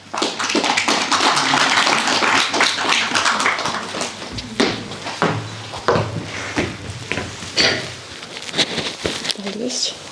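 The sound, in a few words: audience applause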